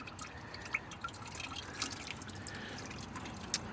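Coolant draining from a radiator valve on a Takeuchi TL8: a faint, steady trickle with a few soft drips over quiet background hiss.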